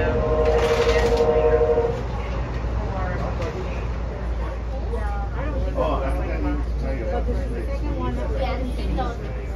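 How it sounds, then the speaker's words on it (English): Freight trains rumble past at a steady low roar, with a brief tonal blast at the start and people talking over the noise. "Those are freight trains."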